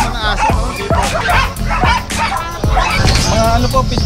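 Several dogs, including pitbulls, bark and yip close by in a rapid burst of sharp, overlapping barks with whimpering between them, with voices in the background.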